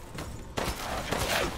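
A sudden loud gunshot in the survival horror game Resident Evil Village, followed by a second blast a moment later, both close and booming, ringing out over a dim, tense background.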